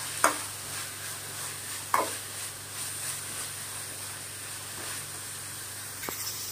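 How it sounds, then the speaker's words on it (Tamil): Onions sautéing in a pan with curry leaves and coriander for egg curry, a soft, steady sizzle with a few sharp clinks of stirring spread through the clip. "வெங்காயம் வந்து நல்லா சுருளாக வதங்கணும்"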